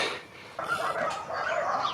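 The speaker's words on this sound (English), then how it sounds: "Some sort of a dog riot going on in the background." Several dogs bark and yelp in the background outdoors on a spring day, a chaotic overlapping chorus at moderate distance.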